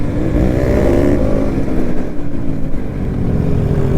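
A Bajaj NS200 motorcycle with its stock exhaust revs loudly and close up on a mountain ride, its engine note rising and falling steadily throughout without any voices.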